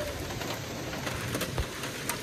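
Steady broadband patter of rain falling in the Uttarakhand mountains, continuous and fairly close, with a few louder drops standing out.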